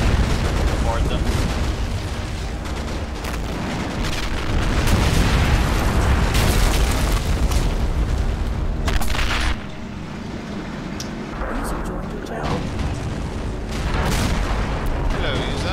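KV-2 tank bombardment in Men of War: Assault Squad 2, a constant heavy rumble of booming explosions and battle noise, loud and dense, easing briefly midway before swelling again; a voice talks faintly over the din.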